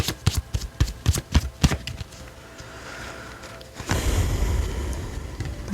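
Tarot cards riffle and slap in a rapid run of crisp, close flicks during shuffling, followed by a quieter stretch and then a broad rustling hiss as the deck is handled.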